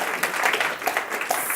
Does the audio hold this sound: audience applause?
yes